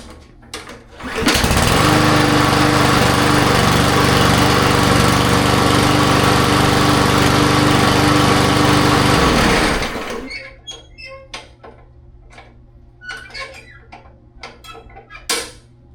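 A cheap Chinese-made lawn mower engine catches after a pull and roars loudly at a steady high-pitched run for several seconds, then cuts out, leaving scattered clicks and light handling noises nearby.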